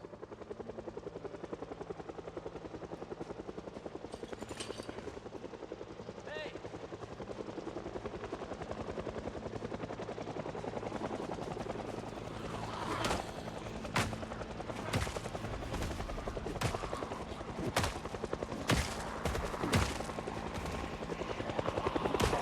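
Helicopter in a zombie survival video game, a steady rotor thrum that continues throughout, joined in the second half by bursts of gunfire cracking over it.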